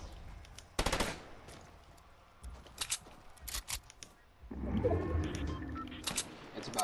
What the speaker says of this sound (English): Ooh, I'm getting shot.